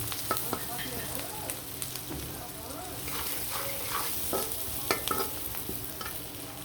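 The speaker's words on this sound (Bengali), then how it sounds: "কুচি কুচি করা পেঁয়াজগুলো দিয়ে সেই তেলের মধ্যে কিন্তু দিয়ে দিলাম" Chopped onions fry in hot oil for a hilsa fish dish, a steady close sizzle broken by scraping stirs of a spoon in the pan, moderately quiet throughout.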